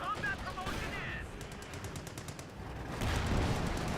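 Rapid machine gun fire in the World War II strategy game Company of Heroes 2, a dense stream of shots mixed with other battle noise and heavier near the end.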